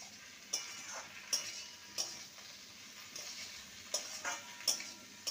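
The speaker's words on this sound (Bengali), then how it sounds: "আলু আর ভেন্ডি দিয়ে দেবো। ভালো করে মিশিয়ে নেব।" A utensil scrapes and stirs okra and potatoes in a frying pan, giving sharp, evenly spaced clinks over a soft, steady sizzle, fairly close.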